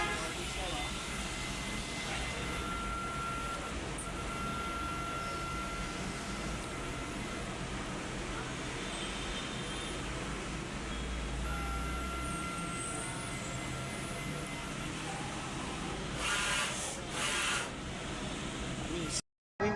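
A DTF film printer runs a nozzle test, giving a steady, fairly loud mechanical whir and hiss with faint tonal hums, continuous for the whole stretch and briefly swelling near the end.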